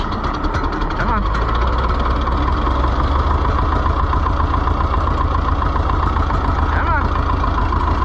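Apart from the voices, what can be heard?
Oliver 1355 tractor engine starting and idling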